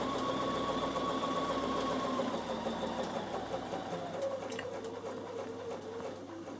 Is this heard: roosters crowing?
no